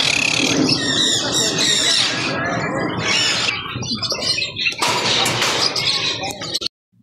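Birds calling at Riyadh zoo, harsh squawks and chirps repeating close by, mixed with crowd bustle and some voices.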